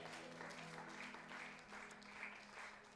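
A church congregation claps for the mothers, a steady, moderately distant wash of applause lasting the whole stretch with no pauses.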